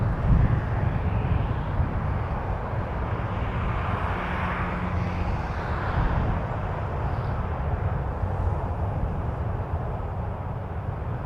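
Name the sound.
airplane engine at Toronto Pearson Airport, possible go-around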